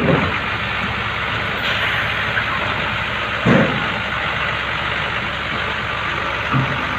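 A Hino truck engine idles with a steady low rumble, broken by a couple of brief hissing bursts, heard alone without voices.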